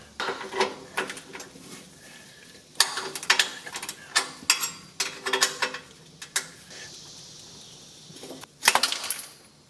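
A wrench ratcheting and clinking against a rusty exhaust bolt on a 2018 Subaru Forester during catalytic converter replacement, irregular metallic clicks and knocks in short clusters, fairly close, with no talk.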